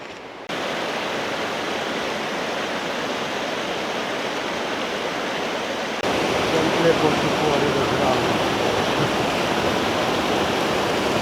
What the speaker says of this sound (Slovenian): Potok oziroma rečica Kropa.